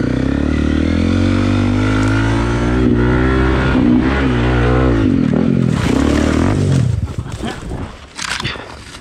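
A Honda CRF 250 Rally motorcycle engine revs hard in first gear on a hill climb, loud and close, its pitch rising in surges before dropping off near the end.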